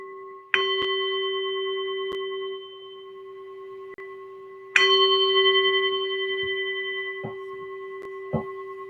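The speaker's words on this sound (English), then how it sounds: "All right, Bob, while people pick their cards, ring the bell" A hand bell rung during a card-picking moment, with two sharp strikes each leaving a long, clear ringing tone that slowly decays, and a few faint knocks and clicks in between.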